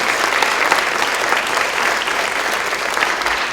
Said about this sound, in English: Let's give a round of applause again to all of our sponsors for the Seniors Got Talent event